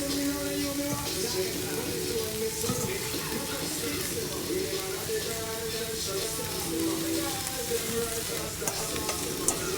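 Cabbage, onions and peppers frying in a pot, a steady close sizzle and crackle running throughout with a few stirring scrapes, while a person talks over it.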